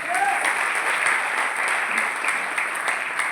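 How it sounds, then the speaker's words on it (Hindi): Loud, sustained applause from an audience at a leadership talk, continuous dense clapping that holds steady throughout. "जोरदार क्लैप।"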